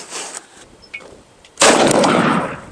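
A single loud, close blast from a 12 gauge shotgun firing a JB Weld slug, followed by a long booming decay. Faint outdoor noise comes before the shot.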